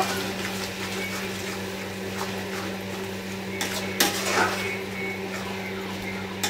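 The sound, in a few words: mixing salt and turmeric into meat in a pot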